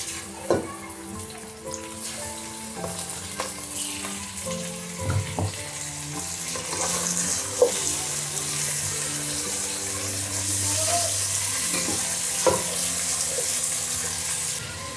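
Chicken dropped into a pot of hot oil with finely chopped onions, sizzling and frying steadily with occasional clinks and stirring knocks, no talking.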